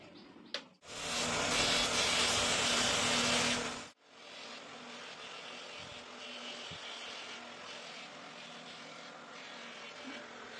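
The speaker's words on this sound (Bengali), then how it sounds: "এই মেশিনটার মধ্যে ঘষে ফিটিং করবো" An eyeglass lens edging machine grinding a lens for fitting: a sharp click, then a loud, rough whirring burst of about three seconds that cuts off abruptly, followed by a quieter steady mechanical hum.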